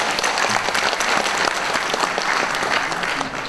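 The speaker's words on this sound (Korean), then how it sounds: "여러분 뜨거운 박수로 맞이해주시길 바라겠습니다" An audience at a book launch event applauds loudly and steadily, a dense, continuous wash of clapping from a large crowd with no break.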